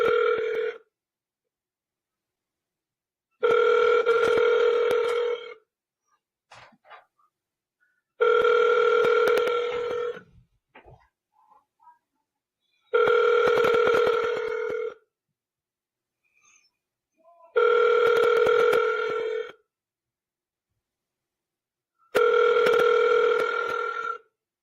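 Ringback tone of an outgoing telephone call that goes unanswered, six evenly spaced two-second rings separated by silent gaps, loud and clear, with faint small noises between rings.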